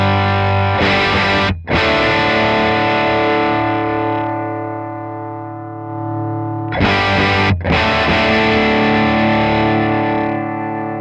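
Electric guitar on its bridge humbucker through a REVV D40 amp clean channel set at the edge of breakup, two strummed chords ringing out and sustaining slowly, with a brief muting between.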